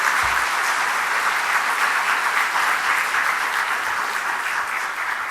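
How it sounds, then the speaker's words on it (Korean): A seated congregation at a Sunday evening church service gives a strong round of encouraging applause, a dense, steady wash of clapping that stays loud and even throughout without talk. "앉아 계신 분은 힘찬 격려의 박수 부탁드리겠습니다"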